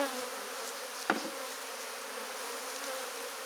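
Bees from a nest being moved off a tree buzz in a faint, continuous swarm drone around the nest, broken once by a single sharp knock.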